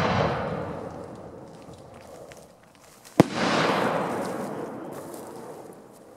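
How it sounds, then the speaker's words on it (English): A 6-inch Freedom 100 Dragon's Dance long-duration firework shell goes off outdoors: a fading crackle and hiss, then a sharp loud burst followed by a long, sustained sparkling crackle that slowly dies away. "we're going to shoot the 6-inch Freedom 100 Dragon's Dance"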